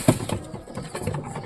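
Pigeons flutter down to feed on scattered mustard seed, with a soft wing burst at the start followed by faint scuffling and light cooing close by, over quiet background noise.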